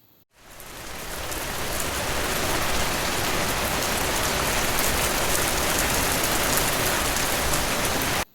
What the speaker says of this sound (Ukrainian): Це звуки дощу.